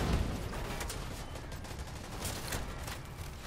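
Rapid gunfire in The Division 2 during a raid boss fight: steady overlapping shots with sharp bursts scattered across the clip, moderately loud and busy, with no talking.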